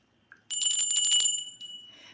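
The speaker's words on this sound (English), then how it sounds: "So this is my bell, um, just to clear out the energy" A small hand bell rung to clear energy during a live spiritual reading, giving a bright sustained ring with several quick strikes that shimmer and then fade, near and clear with no talking over it.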